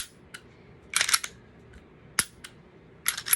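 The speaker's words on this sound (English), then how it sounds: "Testing your firearm, dry firing it." A Glock 43X 9mm or Smith & Wesson Shield 40 pistol is dry fired, giving crisp mechanical clicks and snaps, close and quiet, in a few short separate bursts.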